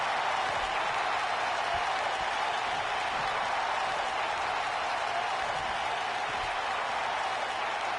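A large arena crowd in WWE 2K19, set in Philadelphia, roars and applauds in a dense, continuous wash of cheering that stays loud and even throughout.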